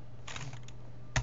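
Quiet, close keystrokes on a computer keyboard as HTML is typed into a text editor, a quick cluster of soft clicks followed by a pause and one sharper final key press.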